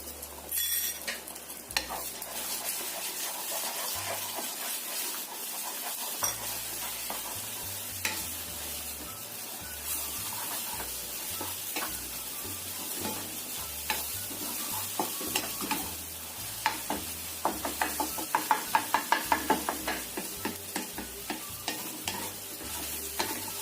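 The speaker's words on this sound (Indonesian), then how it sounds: "Kita goreng telurnya ini, goreng orak-arik aja." Beaten eggs scramble and fry in about three tablespoons of oil over medium heat, giving a steady close sizzle with scraping and stirring strokes throughout and a run of sharp spatula taps near the end.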